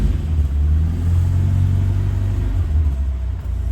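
A 1965 Morris Minor convertible's engine ticking over just after a cold start without choke, a steady, close, low rumbling idle with a faint dip near the end and no talking.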